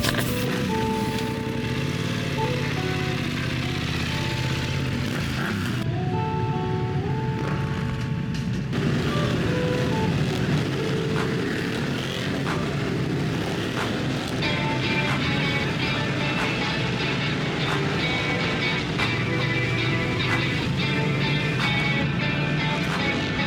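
A BMW F900R motorcycle races at Silverstone in a British Superbike round, engine loud and close with rising and falling revs, gear changes shifting the pitch, and wind rushing over it throughout.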